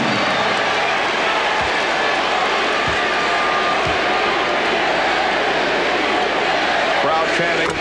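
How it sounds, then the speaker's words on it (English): A basketball arena crowd at the 1994 NBA Finals, Knicks versus Rockets, roars in a loud sustained wash of chanting and cheering, with a commentator talking over it and a few dull thumps. "Crowd chanting MVP."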